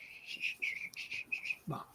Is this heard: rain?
no